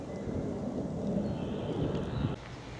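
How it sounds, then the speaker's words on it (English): Wind gusts buffet the microphone outdoors on a countryside walk around Clavering, a steady close rumble that swells slightly before dropping off abruptly near the end, with no voices. "I hope this wind's not interfering with commentary."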